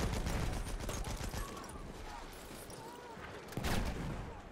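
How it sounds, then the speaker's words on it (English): Battlefield 1 video game battle with a continuous roar of distant gunfire and bombardment, a sharp blast near the end, and a voice faintly under the din. "We are getting absolutely bombarded here."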